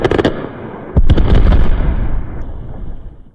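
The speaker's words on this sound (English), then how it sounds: "That's the sound of charges blowing up a massive boulder that rocked the roadway for several days." Explosive charges blast a massive boulder blocking Highway 178 in Kern County: a sharp crack, then a deep, heavy boom that rumbles and fades over a few seconds, with no talk.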